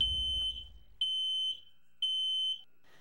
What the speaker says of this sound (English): Having a functional smoke alarm in your home could be the difference between life or death.